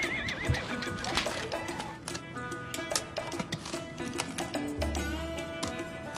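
A horse whinnies amid a busy mix of music and clattering sounds, with hooves clip-clopping loosely through the background.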